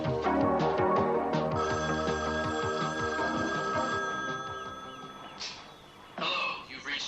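A telephone rings with repeated electronic bell trills, steady and fairly close, while people speak over it before an answering machine picks up.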